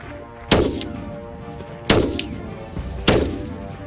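Three loud .223 rifle shots fired about a second apart, each a sharp crack with a ringing outdoor echo trailing off.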